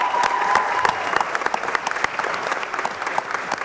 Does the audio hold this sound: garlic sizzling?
no